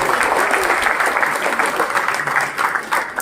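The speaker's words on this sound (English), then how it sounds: "Big round of applause for all those who have asked questions." An audience claps loudly and steadily for question askers at a Janmashtami youth festival, dense applause filling the hall throughout.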